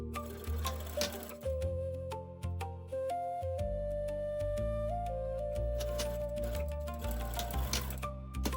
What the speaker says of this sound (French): Je couds d'abord les bandes d'extension entre elles pour obtenir la longueur exacte de la jambe.